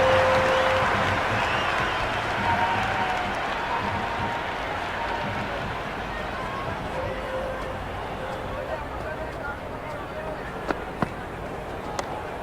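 Steady crowd applause and cheering from a Cricket 26 video game broadcast of an IPL match, Kolkata Knight Riders versus Delhi Capitals, a dense, even roar that fades slightly and carries a couple of sharp clicks near the end.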